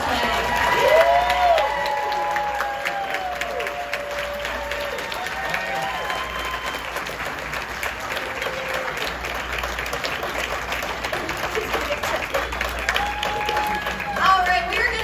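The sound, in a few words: audience applause at Spooky Empire cosplay contest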